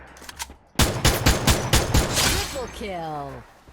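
Gunfire in the Free Fire video game, including an M24 sniper rifle, comes as a rapid burst of loud, sharp shots close up, followed by a ringing tail. No one talks during it.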